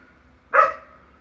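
A single dog bark rings out loud and fairly close, one short sharp burst that fades quickly into quiet.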